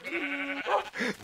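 A sheep in the video game Minecraft gives a quick pair of wavering bleats, close and clear, with a short pause between them.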